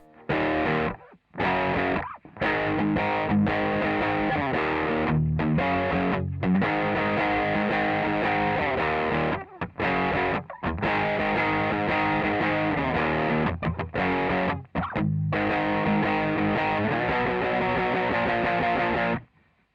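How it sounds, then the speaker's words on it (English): Loud, heavily distorted electric guitar strums chords in a driving rhythm, with brief gaps of silence between phrases; no voices. "So guitar 2 for the chorus sounds like this."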